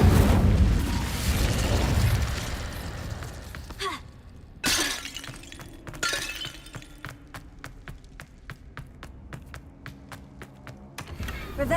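Incendio fire spell cast in Hogwarts Legacy, heard as a loud crackling, shattering burst followed by a whooshing flare, then a run of sharp clicks and pops under faint game sounds.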